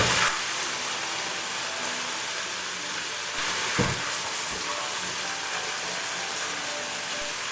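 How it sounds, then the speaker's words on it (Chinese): Cabbage, chicken and scallion greens tossed quickly in a wok over high heat, a steady close sizzle with faint scraping and clinks of the spatula throughout. "大火快速翻炒均匀，就能出鍋了。"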